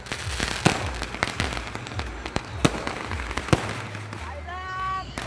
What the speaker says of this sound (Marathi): स्वागत बघा आमच्या पालखीचं फुल फटाक्याने इथे बघा